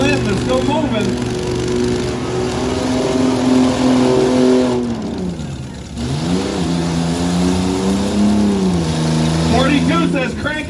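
Full-size trucks racing in a heat at a county fairgrounds track, engines droning and revving in long rising and falling sweeps, loud and near, with an announcer talking over them.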